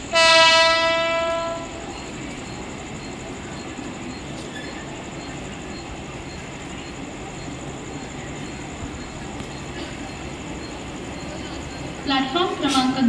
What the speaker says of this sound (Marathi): प्लॅटफॉर्म क्रमांक 2 पर आई हुई लोकल 8 बजकर 6 मिनट की ठाणे जाने वाली धीमी लोकल है